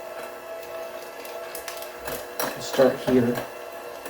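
An electric mixer running on low whips lime Jell-O powder into Cool Whip whipped topping, giving a steady whirring motor hum beneath a person talking.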